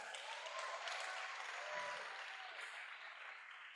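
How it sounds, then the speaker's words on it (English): Sustained applause from a large audience at an international oratory competition, steady clapping for the final speakers that fills the whole stretch at even strength. "All of our final speakers, round of applause."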